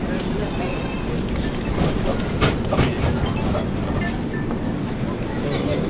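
A train pulls out of a station, rumbling steadily and loudly with faint rail clatter. It holds an even level throughout, with a slight swell midway.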